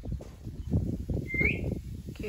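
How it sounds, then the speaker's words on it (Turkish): A parrot gives a brief, rising whistled call in a village setting, faint and heard over constant low rumble and background noise. "Arkadaşlar bakın şurada bir papağan var."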